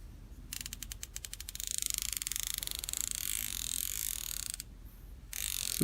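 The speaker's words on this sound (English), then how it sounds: "This is the drag sound." Rapid mechanical clicking from the drag of a Daiwa Ryoga 1520 baitcasting fishing reel, a dense ratcheting buzz that speeds up and holds steady for several seconds, close up with no voices.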